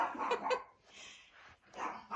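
A pet chihuahua lets out several sharp, quick yaps, first a close burst, then a fainter whine-like yelp, then another bark.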